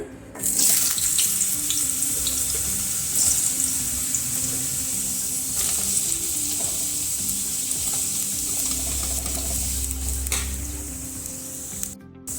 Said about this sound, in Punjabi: ਤੇ ਹੁਣ ਅਸੀਂ ਇਹਨੂੰ ਫਰਾਈ ਕਰ ਲਵਾਂਗੇ ਇੱਥੇ ਕੜਾਈ ਦੇ ਵਿੱਚ ਪਾਤਾ ਅਸੀਂ ਰਿਫਾਈਨਡ ਤੇ ਇਹਦੇ ਵਿੱਚ ਸਭ ਤੋਂ ਪਹਿਲਾਂ ਆਪਾਂ ਆਲੂਆਂ ਨੂੰ ਪਾ ਦਵਾਂਗੇ